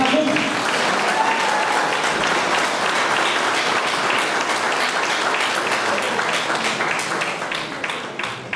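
An audience at a civic gathering in Carei applauds warmly for a newly installed leader, with dense sustained clapping that fills the whole stretch and tapers slightly at the end.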